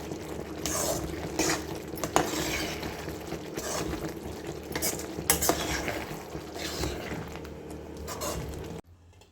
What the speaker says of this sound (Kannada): ಇದನ್ನು ಅನ್ನಕ್ಕೆ ಹಾಕಿ ಈಗ ಕಲಿಸ್ಬೇಕು